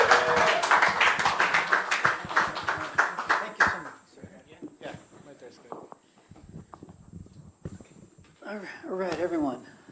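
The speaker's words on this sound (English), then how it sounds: "So let's give him a round of applause and welcome Laura Varela as well." Applause after a film screening at Flor Y Canto, with brisk clapping from the audience that fades out midway, then voices speaking close by.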